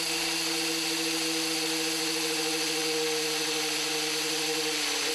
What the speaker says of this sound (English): The Drymond core bit can drill holes in reinforced concrete without using water.